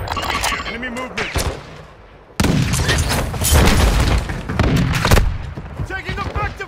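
Heavy, loud bursts of automatic gunfire and booming shots in Call of Duty DMZ, dense overlapping volleys that stop briefly and then resume in sustained fusillades, with voices heard under the shooting.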